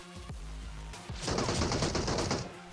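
PUBG Mobile gunfire: after a couple of low thuds, a rapid automatic burst rattles for about a second, loud and close, then cuts off.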